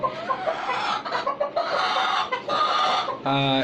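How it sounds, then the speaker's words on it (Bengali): Native, Fayoumi and tiger chickens cluck repeatedly in a small backyard cage farm, a busy close flock chorus with overlapping calls, one clear sustained call rising near the end. "এই খাঁচার মধ্যে আপনার দেশি, ফাউমি ও টাইগার মুরগি লালন পালন"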